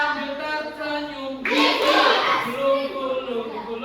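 A fifth-grade class of children at an elementary school sings a song, then bursts into a loud round of hand clapping that fades back under their voices.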